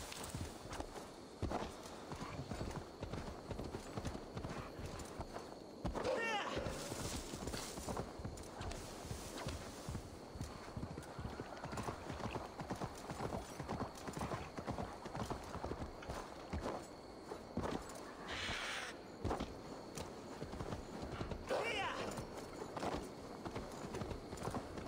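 Horse hooves clip-clop in steady walking rhythm on the ground in the video game Assassin's Creed Valhalla, a continuous close sequence of hoof strikes with a few brief louder accents.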